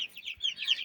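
Hen clucking among small chicks in a rural poultry coop, soft repeated clucks and high thin chick peeps close by, short and fairly quiet.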